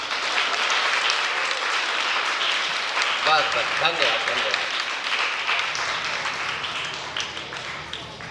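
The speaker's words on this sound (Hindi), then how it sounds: "तो एक बार सभी लोग अपने लिए तालियां बजाते हैं" An audience at a traditional theatre event claps in a sustained wash of applause, with a speaker briefly saying thanks over it partway through before the clapping tapers off.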